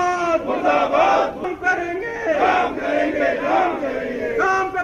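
Striking LIC employees chant protest slogans in unison, a crowd of voices rising and falling in repeated rhythmic shouts, close and loud.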